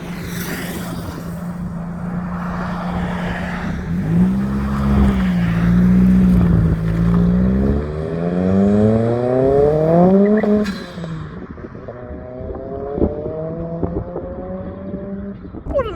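A restored Ford Escort MK1 RS revs hard on the road, its engine climbing in rising pitch sweeps through the gears before easing off, loud and close, with a second pull after a brief lift.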